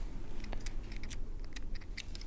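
Scissors trim the edges of fabric for Victorian embroidery, giving a few soft, brief snips and crisp cuts over a faint room hum, close by and quiet, with no talk.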